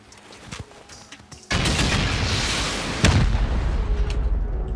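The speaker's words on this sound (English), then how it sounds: "Let's try rockets on this one." Rocket explosions during a raid in a survival game, a loud sudden blast kicking in mid-clip and rumbling on, then a second heavy impact, after quieter background sounds at the start.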